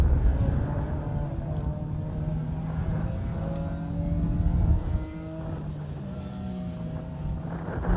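Mini rally cars race on a stage of a rally, engines droning loudly with shifting revs, one car nearer and louder before the sound drops back to a steadier, more distant hum.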